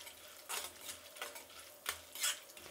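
A spoon stirs chana dal and urad dal roasting in oil in a pan, giving soft scraping strokes and a few sharper clinks at irregular intervals, faint and close, with no voices.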